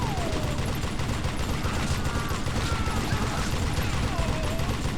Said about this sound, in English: Old Gatling gun.